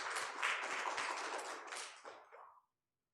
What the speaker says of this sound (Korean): 우리도 박수로 하나님 앞에 영광 돌립시다